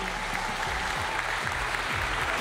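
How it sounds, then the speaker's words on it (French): An audience applauds steadily with dense clapping at the Aito Tu'aro 2023 awards evening. The clapping holds at an even level throughout, with no talk over it. "Sous vos applaudissements, Taimiri!"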